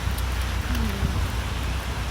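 Rain falls outdoors on a shopping trip in cold weather as a steady, close hiss covering the whole stretch, with low traffic rumble beneath and no talk.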